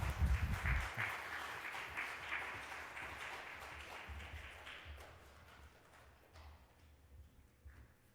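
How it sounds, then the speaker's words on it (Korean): Church congregation at a Korean church service giving a welcoming round of applause for a visiting pastor, a soft, steady patter of many hands that fades gradually toward the end, with a louder thump at the start. "따뜻한 환영의 박수로 맞이해 주시기 바라겠습니다"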